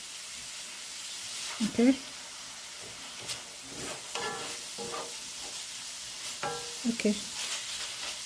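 Ground beef fries in a pan for nachos with a soft, steady sizzle, broken by occasional stirring scrapes, while a person says a few brief words.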